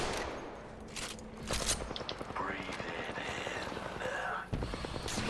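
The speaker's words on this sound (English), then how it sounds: "Damn, they're shooting at me now." Gunfire in a video game, bursts of rapid shots and scattered single cracks mixed with game effects, fairly loud and close, overlapping with excited voices talking over it.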